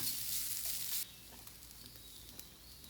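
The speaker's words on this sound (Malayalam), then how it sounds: "എന്നിട്ട് അതും ചേർത്തിട്ട് നല്ല പോലെ തന്നെ മൂപ്പിച്ചെടുക്കുകയാണ്" Coriander powder frying with shallots and curry leaves in a pan for a roasted-coconut chickpea curry gives a loud, close sizzle for about a second, then settles into a softer steady hiss with faint stirring clicks.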